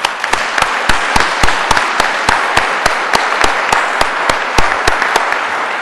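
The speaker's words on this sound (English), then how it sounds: "We need to give him a big round of applause." A round of applause at a closing plenary session of a conference, with rhythmic claps standing out sharply above a broad, dense wash of crowd clapping that holds steady at a close, loud level.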